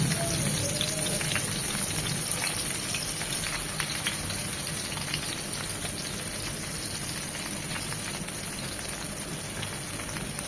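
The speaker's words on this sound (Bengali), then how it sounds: "আমি এই তেলেই বেগুনগুলো ভেজে নেব।" Eggplant pieces fry in hot oil for a tilapia and eggplant stew, giving a steady, dense sizzle with fine crackling pops that holds evenly throughout, close and without any talking.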